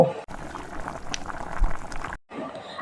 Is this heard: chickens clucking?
no